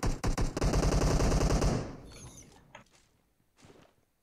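Rapid automatic gunfire in the mobile battle royale game PUBG Mobile, a loud close burst of repeated shots that cuts off and fades into a few quieter shuffling and footstep-like sounds.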